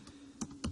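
Typing a web address on a computer keyboard: three quick, faint keystroke clicks in under a second, with no other sound.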